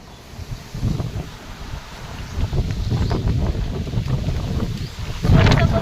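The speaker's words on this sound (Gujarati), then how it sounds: "જો પવન કેવો જોરદાર છે. બહુ મસ્ત છે પવન." Strong gusts blow through a neem tree, a loud, rushing roar that builds and surges, with wind buffeting the microphone and a sharp peak near the end.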